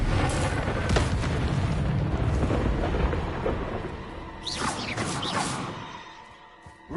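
Confringo spell explosions in Hogwarts Legacy make deep rumbling blasts that roll continuously, then a few sharper bursts hit near the end before the sound fades.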